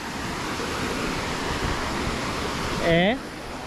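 Steady broadband rushing of a river near Vikos village, Greece, fills the whole clip, with a brief voice cutting in near the end.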